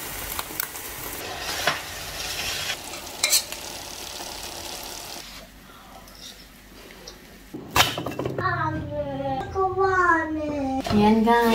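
Eggs with onion leaves frying in a pan, a steady sizzle with occasional utensil taps, then a voice and other speech that rise over the frying toward the end.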